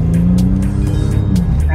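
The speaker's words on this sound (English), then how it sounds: "love the way this car sounds." A car's exhaust note while driving, a deep continuous rumble close by and fairly loud, with a person speaking over it.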